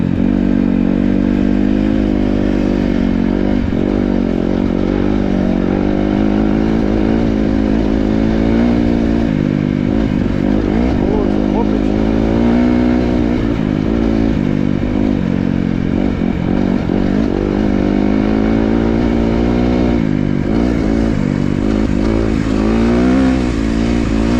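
Brand new 2026 Kawasaki KX 250 dirt bike engine, loud and continuous throughout, its pitch rising and falling steadily with throttle changes while riding, with wind and ride noise underneath and no talk.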